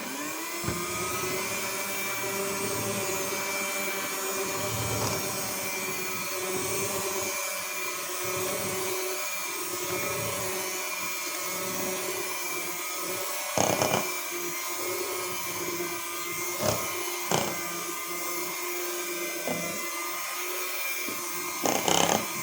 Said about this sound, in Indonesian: Saya sebentar di mixer, sebentar aja.